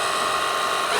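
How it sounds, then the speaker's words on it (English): A Ryobi 36V high-pressure power washer runs in turbo mode, giving a brief, steady, loud rushing whine of motor and spray with no pauses. "And then if you dial this up to the turbo mode and we go speed 1, 2,"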